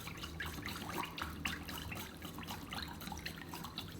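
A whisk works quietly through a sauce of soy sauce, dark soy sauce, oyster sauce, hoisin sauce, sugar and water in a bowl, making soft, rapid liquid clicks and sloshes at close range, with no talking.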